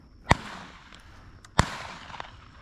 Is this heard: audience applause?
no